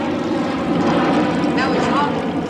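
A stretched DC-9 jet airliner passes low overhead above the chimney tops of Shepherd's Bush, London, a loud, steady, broad engine roar that fills the whole moment without a break.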